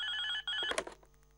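A telephone bell rings in two close bursts inside a home, fairly loud and alone, then is cut off by a brief clatter as the handset is picked up.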